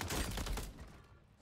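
Rapid automatic gunfire in Call of Duty, a dense burst of close, loud shots that tails off after about half a second.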